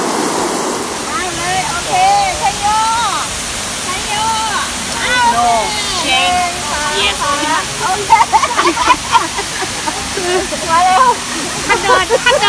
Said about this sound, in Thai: ข้างตรงนั้นก็จะเป็นม่านน้ำตกลงไป